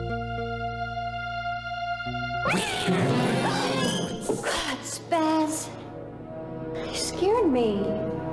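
A cat in the horror adventure game Phantasmagoria lets out a drawn-out meow, followed by a sudden crash and clatter, then further yowls and wavering cries over a steady musical drone.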